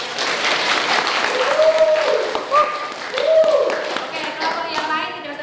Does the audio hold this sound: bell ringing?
no